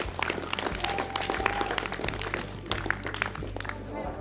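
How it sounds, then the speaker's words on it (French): Audience applause at a judo club referee training gathering, a dense steady clatter of many hands filling the room at moderate level, with faint voices mixed underneath. "vous pouvez vous applaudir"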